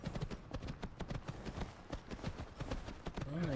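Horse hooves clip-clop in steady rhythm in Skyrim, close and fairly loud, while a voice briefly talks over part of it.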